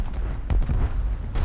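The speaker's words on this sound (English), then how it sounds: "And a good explosion." A hit tank exploding in the War Thunder ground battle game, a heavy low rumbling boom with a sharp burst near the middle and a rolling, sustained tail.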